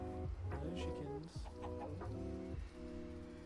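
Chickens being bred on a farm in a video game cluck and squawk in a busy overlapping flurry, loud and close, with no voices over the poultry sounds.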